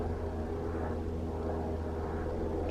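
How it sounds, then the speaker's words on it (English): An airplane passes overhead as a steady, low, broad rumble that holds at constant loudness throughout, with no talking. "Can you hear that plane?"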